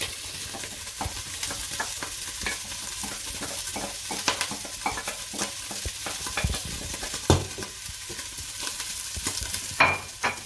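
Onions frying in a pot with bacon for a seafood chowder, a steady sizzle running throughout while a spoon stirs and scrapes in irregular bursts, close and moderately loud, with no talking.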